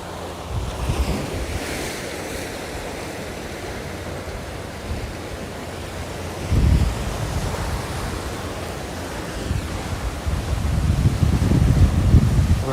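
Ocean waves surge and wash against the rocky shore at Sunset Cliffs in San Diego, a steady close roar of surf with wind buffeting, swelling louder near the end.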